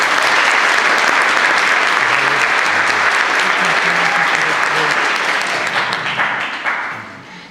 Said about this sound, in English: So let's give her a little round of applause.